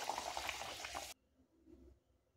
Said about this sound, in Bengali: এইভাবে সমস্ত লুচিগুলোকে সুন্দর করে আমি ভেজে নেব।